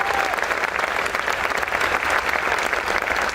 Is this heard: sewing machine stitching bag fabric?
no